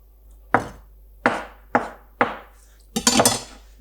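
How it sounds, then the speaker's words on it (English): Tofu being sliced into bite-sized pieces with a knife on a board, five separate sharp chops, close and clear, the last one a quick double cut. "slice it up in little bite-sized pieces"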